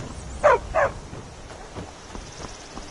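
In the Skyrim video game, a dog gives two sharp barks close by, then a few fainter yips and whimpers trail off quietly.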